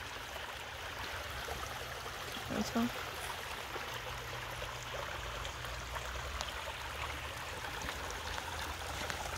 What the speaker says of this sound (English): I'll give you a quick look of the creek flowing.